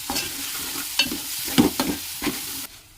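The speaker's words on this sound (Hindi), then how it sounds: "तो इसमें हल्दी ऐड करूँगी और इसमें नमक ऐड करके इसे भून लूँगी" Guar (cluster bean) greens frying in a pan with turmeric and salt, a steady sizzle broken by several scraping stirs of a spatula, close and fairly loud, no talking.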